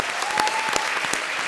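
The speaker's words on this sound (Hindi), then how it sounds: "तो एक बार डेविड धवन के लिए जोरदार तालियां।" Studio audience on a televised comedy show giving loud applause for film director David Dhawan, with a thick continuous clapping texture, a few sharper claps and a brief whistle-like tone riding on top.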